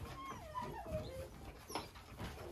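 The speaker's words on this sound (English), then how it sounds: "That one right there barking too." American Bully puppy, one of a litter of merle ticked pups, gives short whimpering yips and barks at close range over a soft, noisy indoor background.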